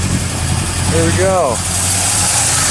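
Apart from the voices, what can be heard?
Chevy 350 engine running, single exhaust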